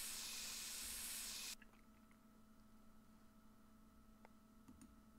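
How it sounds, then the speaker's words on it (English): Aerosol mosquito spray in the game My Summer Car, a loud steady hiss for about a second and a half that cuts off abruptly, followed by faint quiet clicks. "Get some mosquito spray."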